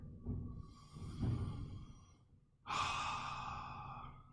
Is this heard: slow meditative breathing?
yes